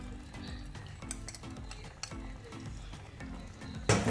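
Cheese being stirred into a creamy garlic chicken sauce in a single pan over medium heat: a spoon scrapes and clinks against the pan in a steady rhythm over soft sizzling, close up and with no talking.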